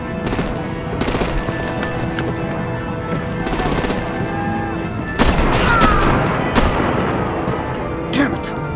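Batman: The Enemy Within battle gunfire, with rattling bursts of automatic fire early on, then louder heavy blasts and sharp cracks later over a constant, rumbling combat din.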